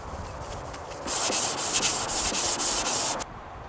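Sandpaper rubbed steadily over the metal sole of a vintage Diamond Edge hand plane, a close, loud scraping run of repeated strokes lasting a few seconds before it stops.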